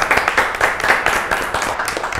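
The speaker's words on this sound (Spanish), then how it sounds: "un fuerte aplauso" A burst of clapping from a small television studio audience, steady and fairly close, lasting a couple of seconds.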